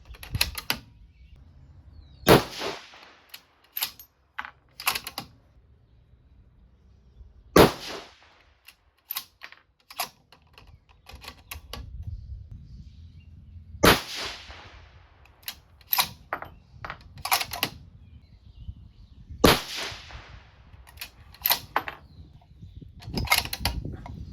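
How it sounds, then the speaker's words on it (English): A 6mm Dasher rifle fires Staball Match loads with 108 Berger bullets in a 5-shot group. Each of the five sharp, loud cracks stands well apart from the next, with quiet handling noise and faint clicks in the gaps. "now we're gonna go ahead and shoot a 5-shot group with it"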